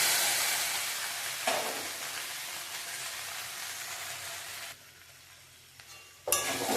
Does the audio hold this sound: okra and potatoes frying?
yes